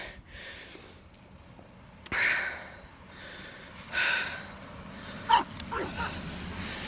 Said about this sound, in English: a barking dog at the car